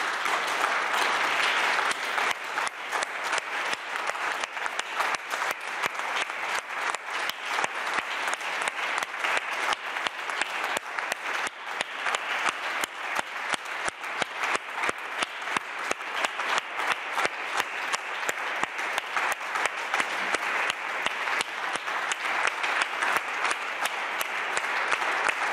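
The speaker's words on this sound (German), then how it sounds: "darf ruhig applaudiert werden" Sustained applause from a crowd at a CDU press conference, dense steady clapping filling the room for the whole stretch, loud and continuous with no talk over it.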